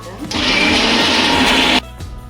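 A mixer grinder whirs loudly for about a second and a half grinding ginger, mint and spices, a steady high-pitched motor roar that starts abruptly and cuts off.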